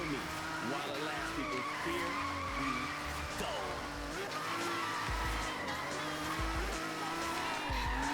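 A Datsun 240Z drifting in Forza Horizon 3, with sustained tire squeal and a revving engine rising and falling as the clutch is kicked, while someone talks over it.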